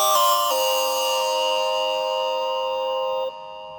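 Synthesizer festival lead patch sounding a bright, bell-like descending run of a few sustained notes with strong harmonics, then holding a tone that fades sharply near the end, with no voices.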